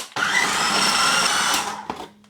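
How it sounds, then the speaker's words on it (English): A food processor whirs loudly as it turns slices of granary bread into breadcrumbs, one steady motor run of about a second and a half that then winds down, with a small clunk at the end. "Here's my food processor, and I'm adding a couple of slices of bread."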